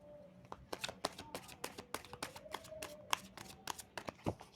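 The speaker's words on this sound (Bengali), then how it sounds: "এইবার দেখি এই ডেকের মাধ্যমে এইখান থেকে যেহেতু একটা এক্সট্রা কার্ড নিয়েছিলাম, তো এইখান থেকে আমি 3টে কার্ড নেব" A tarot card deck is handled close by, with a quick run of crisp card snaps and flicks, about a dozen sharp clicks in uneven rhythm over a quiet background.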